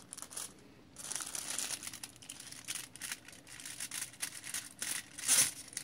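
Aluminum foil wrapped around a phone crinkles and crackles in irregular bursts, close and fairly soft, with a sharper rustle near the end and no talking.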